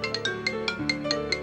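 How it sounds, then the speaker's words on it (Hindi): A mobile phone ringtone in a short drama film, a bright repeating electronic melody of quick pulsed notes, loud and close, with no voices. "रिया का फोन?"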